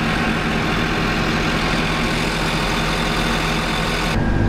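A tractor fitted with a Trimble autopilot steering system runs with a loud, steady, low engine drone, close and unbroken, with no voices.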